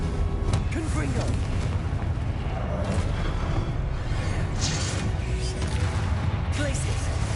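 Confringo fire-spell blasts in the Hogwarts Legacy game burst in a dense, loud, continuous rumble of booms and crashes, one explosion rolling into the next with no pause.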